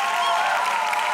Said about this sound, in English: another rowdy First Wednesday crowd